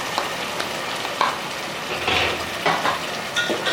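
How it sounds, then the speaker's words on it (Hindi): A masala paste of yogurt, tomato ketchup, chili sauce and green chilies sizzles and fries in a pan for a Pakistani masala aloo dish, with a steady close hiss and a few stirring scrapes. "और मसाला बहुत अच्छी तरीके से भुन गया है।"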